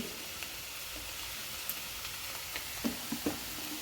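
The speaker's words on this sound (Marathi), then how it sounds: "पूर्ण भाजी मिक्स करून घ्यायची" Safflower leaf (kardi) bhaji frying quietly in a pan, a soft steady sizzle with a few light scraping stirs near the end.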